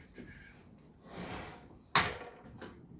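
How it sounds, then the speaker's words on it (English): A Bosch GCM 12 SDE mitre saw swivelled round on its base, a soft sliding rumble followed by a sharp clack as it locks, then a faint tap, quiet and close. "Just swivel this round."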